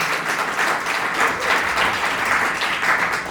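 Steady, dense audience applause at an exhibit opening event, a full room clapping continuously at close range with no talk.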